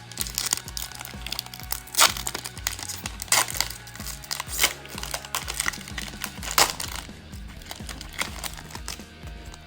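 A Chinese Pokémon TCG booster pack, a standard pack rather than a fat pack, torn open and handled up close, giving continuous crinkling foil and plastic crackles with sharper rips. No one speaks.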